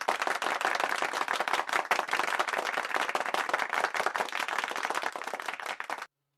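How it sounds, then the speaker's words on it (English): A crowd claps and applauds for a basketball player after a Hornets–Lakers game, sharp dense clapping held steady and fairly close for about six seconds before cutting off abruptly into silence. "We'll give him a round of applause."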